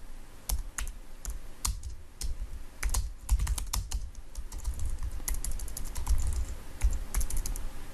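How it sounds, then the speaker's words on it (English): Rapid, irregular clicking of computer keys being typed, close and steady with brief pauses, no voices. "I'm having a hard time typing right now"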